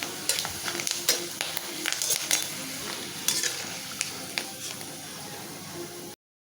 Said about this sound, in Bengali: তো আমার আলুর চিপগুলো ভাজা হয়ে গেছে